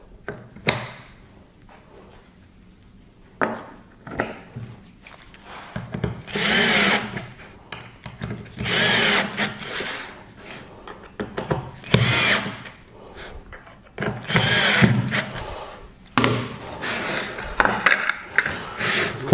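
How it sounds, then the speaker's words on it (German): A power drill drives screws into cabinet mounting plates in repeated bursts of motor whine, each lasting about a second or two, separated by short pauses with faint handling noise. "Eure Montageplatten schraubt ihr auch fest."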